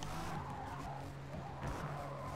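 Race cars, a Nissan and an Aston, running close together in the Forza Motorsport video game: a continuous engine drone with skidding tire noise, moderately loud and unbroken.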